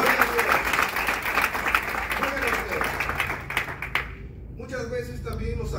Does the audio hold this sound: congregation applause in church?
yes